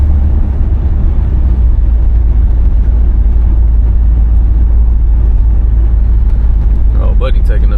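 A 1981 Chevrolet Corvette, about 3,000 pounds, drives along under light throttle, its engine a steady, loud, deep rumble heard from inside the car.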